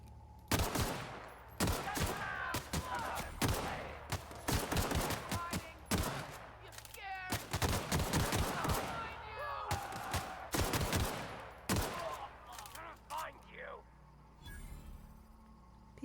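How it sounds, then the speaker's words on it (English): Rapid bursts of gunfire from shooting marauders in The Outer Worlds video game, loud sharp cracks in clustered volleys over about sixteen seconds, with a voice talking between and over the shots. "Let's shoot the ones closer to us."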